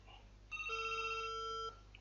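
A landline telephone connected through a Huawei B310s router rings with a steady electronic tone. It is one sustained ring of about a second, fairly close and clear, with no talking over it.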